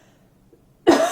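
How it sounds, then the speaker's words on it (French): One loud, close cough bursts in suddenly after near silence, a single sharp hack at the very end. "pardon, je vais tousser."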